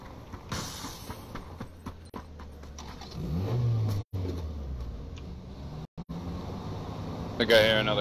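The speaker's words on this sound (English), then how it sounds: "I think I hear another car." A car engine in a video game rumbles and rises in pitch mid-clip, mixed with game effects and tapping, while people talk over it.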